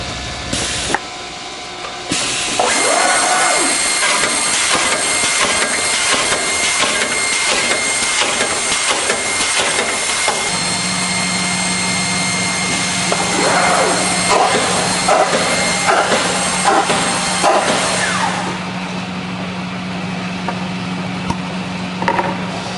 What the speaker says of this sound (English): This panel will be placed vertical for vertical drilling.